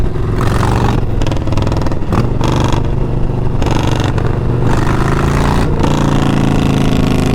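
A 2022 Harley-Davidson Low Rider ST motorcycle engine runs loud and close, a deep, steady rumble with repeated revving swells and throttle blips throughout, no talk over it.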